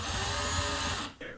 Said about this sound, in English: I'm having to use a drill for these tiny screws